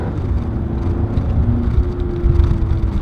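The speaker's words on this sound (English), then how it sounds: "I absolutely love this engine." A 2019 Volkswagen Arteon's turbocharged engine runs with a steady low hum and slight whir, close and continuous, with small swells in level like a light rev or moving car.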